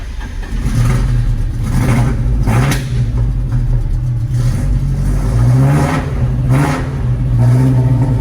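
A Datsun 620 pickup with no choke cranks, catches and runs with a loud, rough idle, blipped by several revs that swell and fall in a steady rhythm up close.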